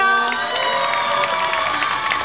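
Outdoor charity festival concert crowd in Seoul cheering and applauding, with shrill shouts and screams riding over steady clapping, loud and close.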